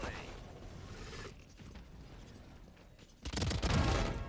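Weapon reload in a first-person tactical shooter: soft mechanical clicks and creaks, followed near the end by a louder burst of close gunfire and game noise.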